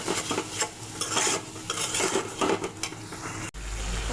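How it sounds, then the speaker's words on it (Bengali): Spice paste with coriander powder for a pangas fish curry is stirred and fried with a splash of water in a pan, a spoon scraping steadily under a soft sizzle, with a brief sharp clatter near the end. "এখন একটু জল দিয়ে আবার কষিয়ে নেব"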